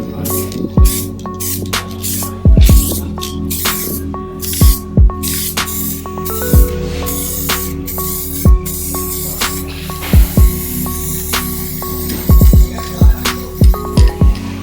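Primer hisses from an aerosol can onto steel wheels in short, repeated bursts, each spray followed by a pause, with a faint steady hum underneath and no talking.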